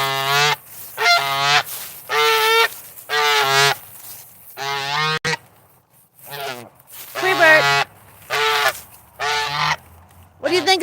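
Pet goose honking: a run of loud, nasal honks in irregular bursts with short gaps, close by and clear, then a longer pause before more honks.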